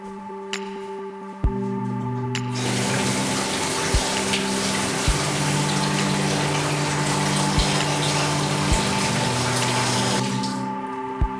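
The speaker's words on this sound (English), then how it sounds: "Now it's time to go ahead and wet my hair." Water sprays steadily onto locs being wetted before curl styling, a broad continuous hiss with a low pump-like hum that lasts about eight seconds and then cuts off, with no talking.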